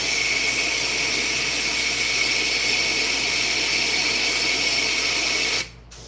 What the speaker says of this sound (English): So I had to switch really quickly to a different airbrush